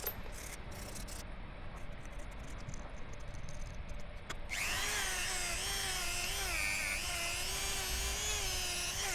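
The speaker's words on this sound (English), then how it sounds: "Give it one last sand" Power sander working over a carved wooden highland cow figure, a steady high whine that starts abruptly partway through after quieter handling noise, continuous and close with slight pitch wavering.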